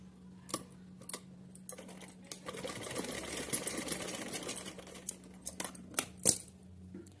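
A sewing machine stitches a cotton summer outfit for a small Laddu Gopal idol, running in a steady close whirring burst with a low hum under it, framed by scattered clicks and handling taps.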